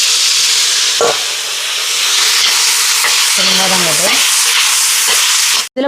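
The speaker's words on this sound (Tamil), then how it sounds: "இப்போ வெங்காயம் எல்லாம் வதங்கி வருது" Onions sauté in a pan with steady broadband sizzling and frying hiss, with brief scraping stirs partway through; continuous and close.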